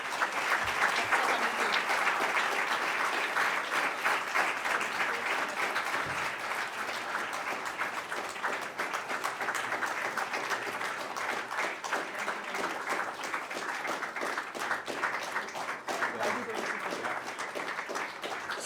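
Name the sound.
audience applause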